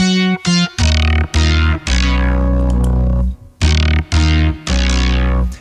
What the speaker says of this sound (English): If I turn up the distortion all the way on the tube screamer